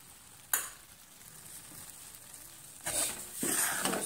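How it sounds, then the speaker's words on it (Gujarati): Grated coconut roasting in a pan for gond laddu: a soft, steady sizzle with two bursts of stirring scrape and crackle, close and moderately loud, no voices. "કોપરાનું છે એડ કરીશું એટલે એ પણ સરસ એવું શેકાઈ જાય"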